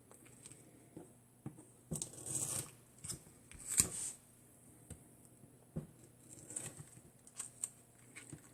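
Scissors cut paper for a shell-shaped scrapbook album, a quiet, close run of irregular snips and rustles spread over several seconds with no speech.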